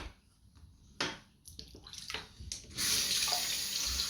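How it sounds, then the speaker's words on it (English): Straight razor rinsed under a running tap, starting with a few splashes and clinks, then a steady close stream of running water. "Quick rinse off."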